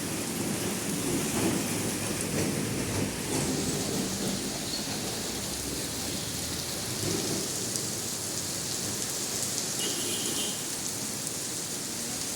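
Heavy rain pours down steadily, a dense continuous roar of drops on surfaces with a low rumble beneath, constant and loud throughout with no voices.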